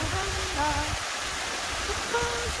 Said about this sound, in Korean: 구절산이 자랑하는 9폭포입니다.